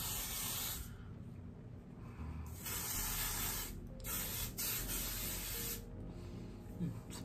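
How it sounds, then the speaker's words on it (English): A rejuvenating dry oil mist is sprayed onto curly hair in several hissing bursts from a pump bottle, each lasting about a second, close and fairly soft, separated by short pauses. "It's a Rejuvenating Dry Oil Mist, and it's supposed to add moisture and shine in between washes, but I kind of just want to use it as a finishing spray."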